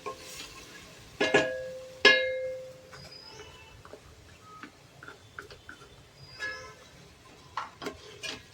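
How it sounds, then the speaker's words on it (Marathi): Tomatoes and onions cooking in a pan for corn pulao, with a few sharp metal clangs and stirring scrapes over a faint, steady sizzle, close by and with no talking. "आता हे छान असं टोमॅटोला आपल्याला शिजू द्यायचं आहे या कांद्याबरोबर."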